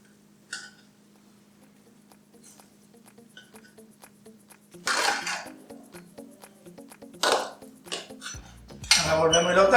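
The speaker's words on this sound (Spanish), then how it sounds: "procedemos a levantarle la tapa del caldero para darle una volteada" A metal lid is lifted off a caldero of arroz con gandules and the rice is stirred, giving sparse clinks, then bursts of scraping and clattering metal that grow louder toward the end.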